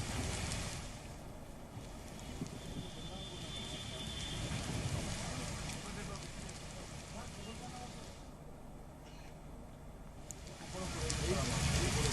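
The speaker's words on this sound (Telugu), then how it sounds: "నల్లకుంట్ల, తార్నాక, హబ్సిగూడలో వర్షం పడుతోంది." Heavy rain falls in a steady, dense wash across Hyderabad's Nallakunta, Tarnaka and Habsiguda areas, continuous throughout with a voice speaking over it.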